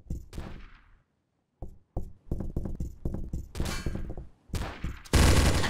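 Pistol shots in the game TTT, a quick uneven string of sharp cracks with short gaps between them, loud and close, followed by a sudden harsh burst.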